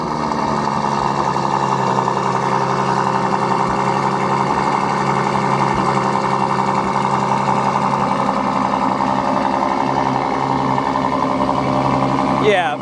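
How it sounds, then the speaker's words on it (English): A Ferrari F12's naturally aspirated V12 holds a loud, steady, close cold-start idle at a Naples, Florida car festival, its smooth drone continuing throughout. "Naturally aspirated V12 cold start."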